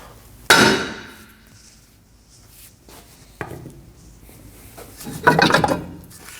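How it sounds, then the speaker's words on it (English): Several sharp metallic hammer strikes ring out on the face of a rear brake rotor of a Chevrolet Colorado pickup, spaced a few seconds apart, close and loud, followed by a brief scraping clatter. "Now we're going to strike the face of the rotor with a hammer."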